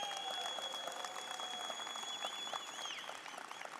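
Audience at a network training event applauding the Romanian team, steady sustained clapping from a sizeable crowd that slowly thins toward the end, heard at moderate distance.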